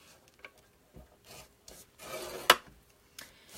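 Paper scored with a scoring tool for a gift card holder, several short, soft, close scraping strokes separated by brief pauses, one sharper scrape near the middle, no talking.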